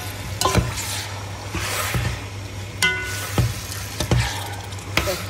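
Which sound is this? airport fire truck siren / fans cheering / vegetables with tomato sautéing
vegetables with tomato sautéing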